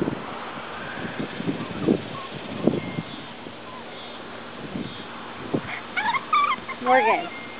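Soft whimpers and yips from an Australian Labradoodle puppy come in scattered bursts, with brief rustling and quiet background noise between them.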